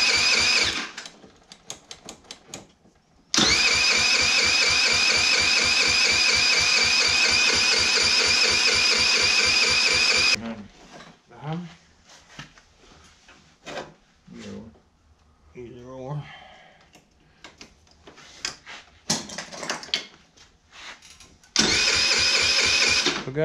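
A GY6 150cc scooter engine is cranked with the electric starter in long, buzzing, rapidly pulsing bursts that stop and restart without catching, with people talking and clattering around it between attempts.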